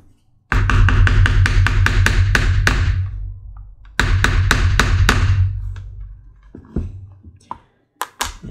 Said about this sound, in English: And then we're going to set this stud part of the snap.